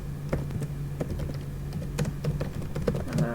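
Steady typing on a computer keyboard while entering Python code, close and continuous with quick irregular key clicks and no voices.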